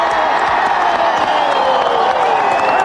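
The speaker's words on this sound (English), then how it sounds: "They applauded because they build the F-15, these workers at McDonnell Douglas in St. Louis." McDonnell Douglas workers in St. Louis applauding and cheering an F-15 sale announcement, a loud crowd roar of clapping and voices that cuts off abruptly.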